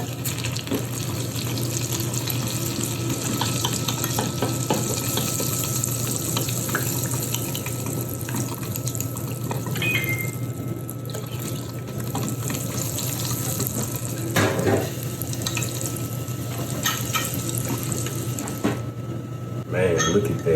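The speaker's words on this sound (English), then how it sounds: "we're about to put this hot oil on top of it" Hot oil is poured over salt, pepper, onion, garlic, chili powder and clove for birria, giving a steady, loud, broad sizzling hiss that runs throughout with faint voices underneath.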